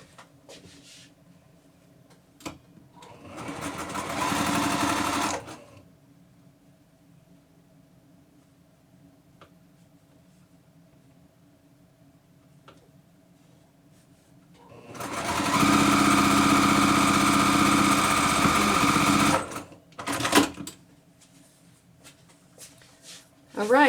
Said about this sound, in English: go ahead and pin and sew right across